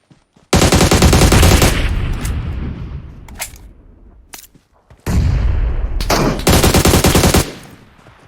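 Heavy video game gunfire, a loud close burst of automatic fire followed by a decaying roar, scattered single shots, then another long rattling burst, with no voices.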